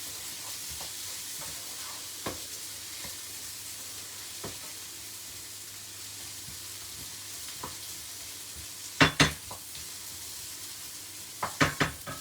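Chicken noodles with salsa verde stir-fry in a hot pan, a steady close sizzle broken by occasional clacks and a few sharp bursts of scraping and tossing near the end.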